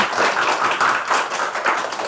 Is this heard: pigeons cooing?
no